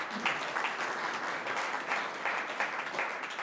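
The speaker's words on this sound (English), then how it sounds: "I think that should get a round of applause." An audience at a St. Catharines city council meeting gives a round of applause, a steady, moderately close burst of many hands clapping, fairly even in loudness throughout.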